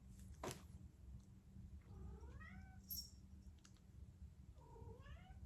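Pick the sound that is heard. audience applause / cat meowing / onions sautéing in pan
cat meowing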